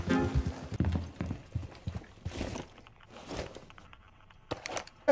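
A horse's hooves clip-clop at a walk in the video game Red Dead Redemption 2, giving a close, uneven series of soft thuds with brief rustles and a sharp knock at the end.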